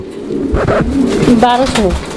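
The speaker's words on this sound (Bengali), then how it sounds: "একটা জোড়া আইস বা কালারের মুখ্য কবুতর" A pair of ice-coloured Mukhi pigeons coo close by in a few short, rolling, throaty calls, while people talk over them.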